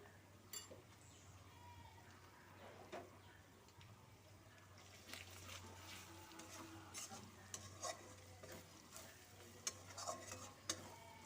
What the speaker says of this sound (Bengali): এভাবে ভালো করে মশলাটাকে আমি ভেজে নিচ্ছি।